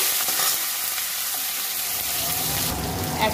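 Cumin seeds, a bay leaf and tomato fry in hot oil with a bright, steady sizzle that swells slightly near the end as the tomato goes in.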